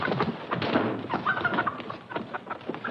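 Chickens cluck and squawk in a rapid, busy scramble, several birds close by in a noisy, agitated flurry with occasional thumps, and no talk over them.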